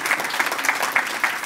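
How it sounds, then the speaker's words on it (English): Steady applause from a crowd at a legislative breakfast, dense clapping with a few louder swells, filling the whole moment without any speech. "Let's give Shema Kolainu a great big round of applause for what they do"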